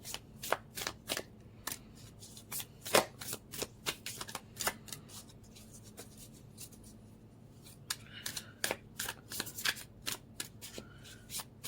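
Tarot cards shuffled by hand, a quick run of crisp riffling clicks and slaps, close and fairly quiet, in bursts with short pauses and no talking.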